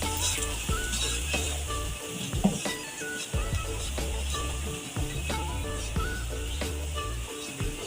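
Okra frying in a pan with turmeric and crushed and ground chili for dhaba-style masala bhindi, a steady dense sizzle with scattered clinks of a spoon stirring throughout.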